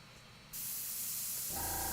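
An airbrush just cleared of a clog bursts into a steady close hiss of spray that starts after a brief faint sputter and keeps going without a break.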